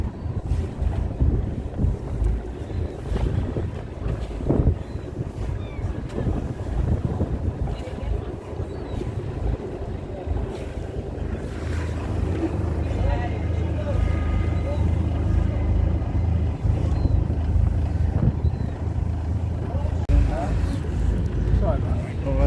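A boat heads out on a sea trip off Whitby, with a low engine rumble, water and heavy wind buffeting the microphone, while people talk nearby throughout.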